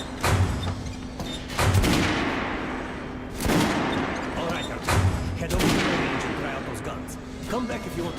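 Guns fire at a shooting range in Metro: Last Light, heavy shots landing roughly every second and a half in a steady rhythm, loud and near, with a steady hum and voices mixed in.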